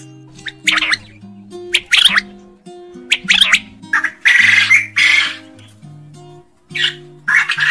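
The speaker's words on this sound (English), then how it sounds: "Quail. And the sound of the quail is..." A quail calls in a series of sharp, squawking notes, loud and close, with brief gaps between each call.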